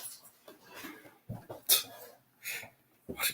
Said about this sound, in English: What a jerk dog.